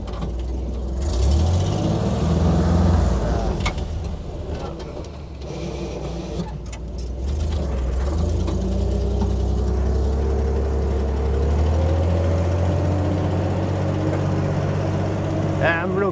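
A vintage Willys Jeep crawls up a steep dirt off-road trail in granny low gear, its engine droning loud and steady with gear whine and mechanical rattles, while people talk over it.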